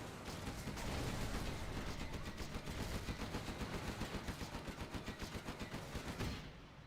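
Gatling guns firing in C&C Generals Zero Hour, a loud sustained burst of rapid, evenly pulsed shots that runs for several seconds before cutting off.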